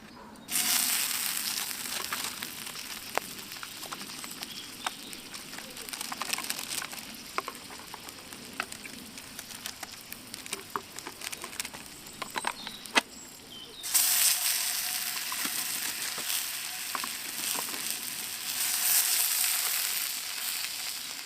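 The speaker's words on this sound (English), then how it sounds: "Now we've got a nice thick bed of coals up this end here that we can use for frying." Sausages sizzle and crackle steadily in a pan over campfire coals, with occasional pops and a louder hiss partway through; no voices.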